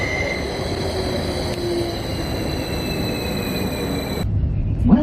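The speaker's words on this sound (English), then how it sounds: "absolutely last thing before the train pulls in" A passenger train on a rural English branch line rolls into a station, a sustained rumble with high squealing wheel and brake tones that cut off near the end as it comes to rest.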